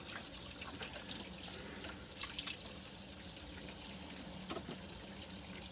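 Cast iron cookware rinsed under a running kitchen tap, with a steady close rush of water and occasional splashes and clatters as the pan is moved in the sink.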